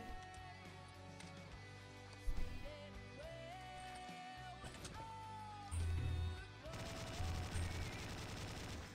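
Rapid gunfire bursts from the Slendytubbies 3 video game crackle over continuous background game music, with a few heavier thumps and louder volleys mixed in.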